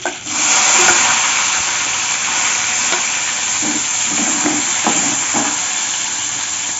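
Sliced onion tipped into hot oil with fenugreek seeds in a pan for a brinjal and double beans chop, giving a loud, steady sizzle that holds throughout, with a few soft clinks and stirring scrapes.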